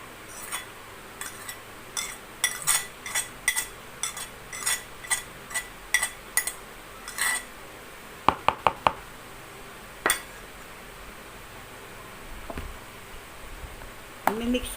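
A spoon clinks and scrapes against a bowl while mixing grated carrots and cheese into a sandwich spread, a run of rhythmic close-up taps followed by a few sharper knocks.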